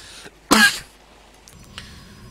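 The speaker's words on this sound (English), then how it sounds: "Excuse my coughing." One short, harsh cough close to the microphone, followed by quiet breathing and faint small noises.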